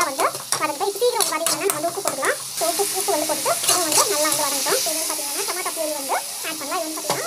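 Onions sizzle and crackle in a hot pan with continuous frying hiss and intermittent stirring clinks and scrapes.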